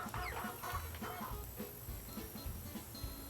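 Several chickens cluck in a farm scene from the video game Nancy Drew: The Secret of Shadow Ranch. The clucks are irregular, fairly close and repeat over a steady ambient background.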